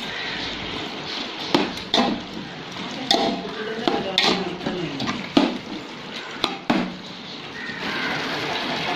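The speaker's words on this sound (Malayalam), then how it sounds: "നല്ല പൊരിച്ചെടുത്ത ചിക്കൻ ഇതിലോട്ട് ഇട്ട് കൊടുക്കാം മസാലയിലിട്ട് നന്നായിട്ട് ഇട്ട് കൊടുക്കട്ടോ എന്നിട്ട് നന്നായിട്ടൊന്ന് ഇളക്കാം" Fried chicken being stirred into masala for a Malabari chicken dum biryani, close and busy: irregular scrapes, clinks and knocks of a spoon against the pot over a soft sizzle.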